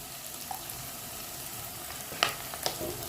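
Garlic paste frying in hot oil for a Malayalam home-cooked dish, a steady low sizzle throughout with a couple of sharper crackling pops near the end, close and moderately quiet.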